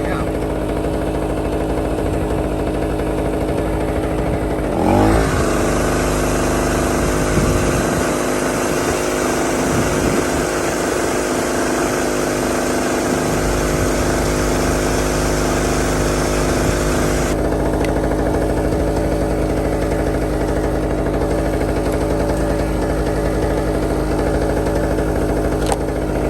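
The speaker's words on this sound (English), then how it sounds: "Perfect little camping generator." A small camping generator, salvaged from a dump, runs steadily nearby with a constant droning engine hum, while someone talks over it.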